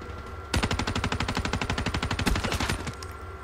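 Rapid automatic gunfire in the Black Ops 3 video game, a sustained burst of about two and a half seconds of close, loud, evenly spaced shots standing alone with no talk.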